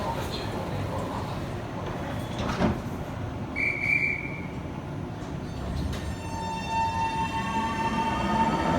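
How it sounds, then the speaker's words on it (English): O-Train Line 1 light rail doors slide shut aboard a moving car, marked by a short bright chime amid the steady rumble of the train interior. "Doors closing. Fermeture les portes."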